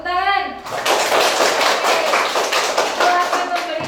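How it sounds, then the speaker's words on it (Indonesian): An audience breaks into steady clapping for a contestant who won a game at a live event. It starts right after a short voice and continues as dense, even applause to the end. "Tepuk tangan."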